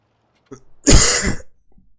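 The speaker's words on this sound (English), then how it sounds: "The coughing is the most annoying part right now." A single harsh cough or throat-clear, close and loud, preceded by a small breathy sound and followed by quiet.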